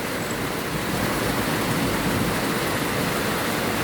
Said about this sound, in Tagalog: Ngayon, narinig nyo, malakas ang ulan.